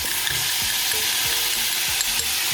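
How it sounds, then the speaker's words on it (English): Garlic sizzling in a hot pan for shrimp creole, a loud steady frying hiss with soft periodic scrapes from a stirring utensil, close up with no talk. "We're gonna add our garlic"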